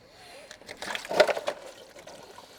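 Coolant gushing and splashing out of an unplugged coolant pipe on a BMW E92, a short, faint burst of pouring liquid that rises and fades.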